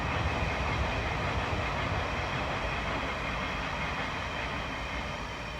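A train rolls past nearby, a loud continuous rumble with rattling wheel noise that holds steady and eases slightly toward the end, with no voices.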